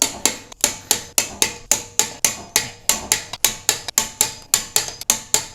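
Lug nuts being torqued on a Toyota 4Runner wheel to 83 foot-pounds, with a rapid, even series of sharp ratcheting clicks, about three per second, close and loud with no talking.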